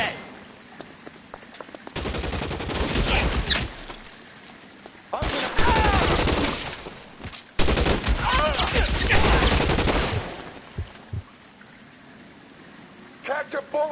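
Gunfire in the crime video game L.A. Noire, heavy automatic bursts in several loud stretches separated by quieter gaps, with a voice speaking over the shooting.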